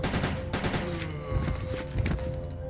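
Rapid bursts of gunfire from the video game Resident Evil Code: Veronica X, fired as a quick series of sharp shots. Game ambience and tonal effects sound underneath.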